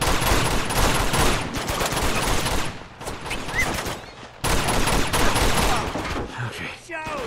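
Dense gunfire bursts from the video game Uncharted 2, with shotgun blasts among them, rattle loudly and almost nonstop with brief lulls, while a voice occasionally speaks underneath.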